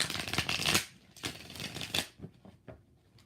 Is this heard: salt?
no